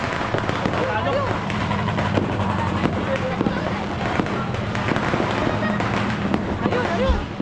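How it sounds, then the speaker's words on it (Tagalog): New Year's fireworks burst and crackle nonstop in a dense, loud barrage, with people's voices faintly mixed into the din. "So many fireworks."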